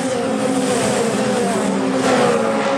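FIA Formula 3 race cars thunder around Spa-Francorchamps, a loud, continuous high-pitched engine whine with shifting pitch, and a brief surge near the end as cars pass close by.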